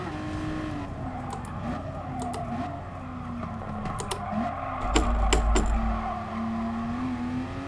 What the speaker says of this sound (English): This car really struggles on that corner.